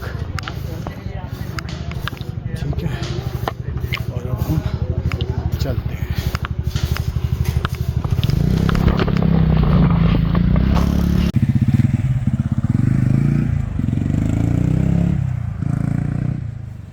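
Motorbike ride away from Tiffin Top toward Naina Devi Temple, with a steady, loud engine drone and road rumble throughout, some clatter and wind, and voices talking over it.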